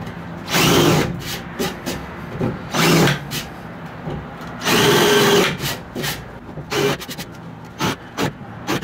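A countersink bit in a power drill boring into a wooden trailer shelf, several short loud whirring bursts separated by pauses, the longer bursts near the start and middle, with no one talking.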